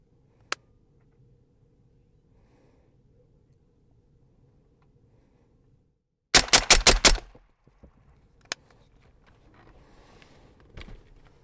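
Rapid burst of about six shots from an MDC-74 rifle in 5.45x39 fired outdoors, loud and close, preceded by a sharp click and followed by a single later report and faint shuffling.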